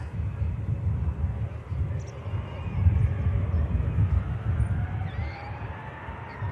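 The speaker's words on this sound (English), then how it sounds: "Here we go, British Airways heading out." British Airways airliner departing Manchester Airport on its return to London Heathrow, a steady low roar of jet engines rumbling continuously in the distance across open ground.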